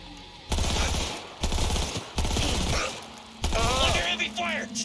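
Gunfire from shooting enemies in a video game rattles in loud, rapid bursts, with game voices talking over the shots.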